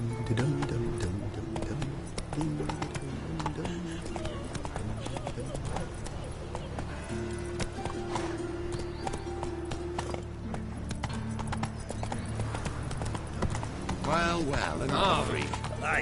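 A horse galloping in The Witcher 3, with repeated hoof beats running under a continuous bed of game music and ambient sound, the horse sitting somewhat back in the mix.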